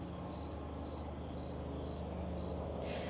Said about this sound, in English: The crickets in the bush, the birds in the air.